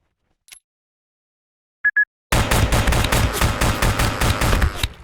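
Lethal auto turret in Space Station 14 opening fire: after a few faint blips, a loud sustained burst of rapid automatic gunfire runs for several seconds, close and unbroken.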